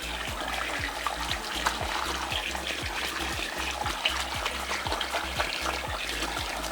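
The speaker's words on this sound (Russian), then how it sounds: "Мы выдержали маску на волосах, сейчас Аня ее смывает" Running water rinses a hair mask out of a client's hair at a salon, a steady splashing stream with faint repeating sweeps from the handling.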